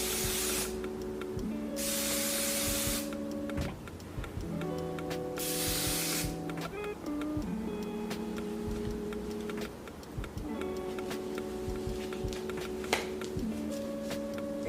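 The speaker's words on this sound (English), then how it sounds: "I'm gonna spray the inside of the closure just so I can have more security." Several long hissing bursts from a spray can sprayed inside a lace wig closure, close and steady, separated by short pauses with faint handling noise between them.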